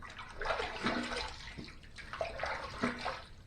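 Tap water runs and splashes steadily at close range while the face is rinsed after a shave with a Charcoal Goods Toothsome Plate safety razor. The splashing rises and falls irregularly, with no talking.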